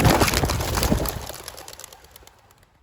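Racing pigeons released together for a five-mile group toss, a loud burst of clattering wingbeats right at hand that quickly fades as the flock flies off.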